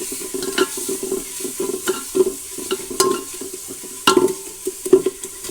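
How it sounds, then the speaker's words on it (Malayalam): Curry leaves frying in a sizzling curry base with tomatoes in a pan, with close, irregular scraping stir strokes and clinks over a steady soft sizzle, no voices. "ഇത് ഞാനിതിലേക്ക് കറിവേപ്പില കറിവേപ്പില ഇട്ട് കൊടുക്കുന്നുണ്ട്"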